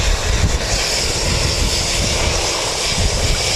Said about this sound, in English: we've got ZK-EKE coming in. Piper 28, again with a Wellington Aero Club